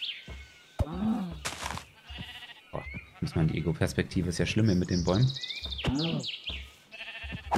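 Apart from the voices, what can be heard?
sheep bleating in Minecraft video game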